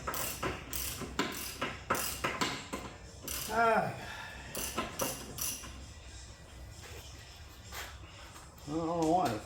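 Ratchet wrench working a tight brake bracket bolt on a Nissan Juke, sharp rapid clicks in bursts close to the listener, with a voice speaking in between.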